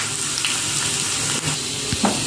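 Finely chopped onion frying in hot oil for a Mangalore-style prawn and potato curry, a loud continuous sizzle and hiss with a few faint stirring knocks, close and without speech.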